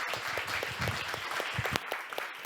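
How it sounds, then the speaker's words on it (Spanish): Applause from an audience at a lecture, a continuous wash of clapping with a few sharper individual claps standing out, fairly steady and unaccompanied by talk. "Un fuerte aplauso otra vez"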